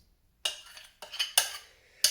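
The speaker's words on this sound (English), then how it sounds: "Beautiful Halki Diki in beautiful Greece will do the mixing job" An olive wood spatula scrapes and thuds through vegan gluten-free oat cookie dough in a bowl, four distinct scraping strokes in an uneven rhythm, close and fairly loud with no talking.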